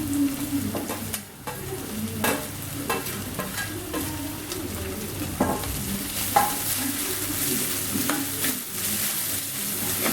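Crushed garlic and ginger sautéing in oil in a pan for a fish head curry, a continuous close sizzle broken by repeated spoon stirs and scraping strokes against the pan, with no one talking.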